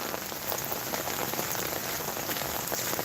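Rain falls steadily outdoors, a dense, even hiss of drops on surfaces that runs unbroken throughout, with no talking.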